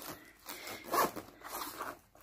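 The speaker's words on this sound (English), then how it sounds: "So there's another zipper. So there's a lot of zippers." A zipper on a Gecko kalimba carrying case is pulled in quick rasping strokes, close and fairly loud, with no talk.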